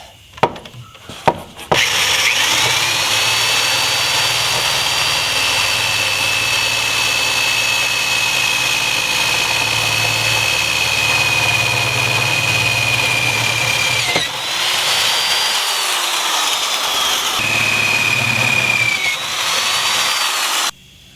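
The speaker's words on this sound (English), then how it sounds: "we're going to put that 17/32 drill bit in there and drill out these holes for the nut certs" A power drill with a 17/32 bit bores holes for nut certs in a JCR Offroad transfer case skid plate, whining steadily in one long sustained run, a short pause, then a second shorter burst.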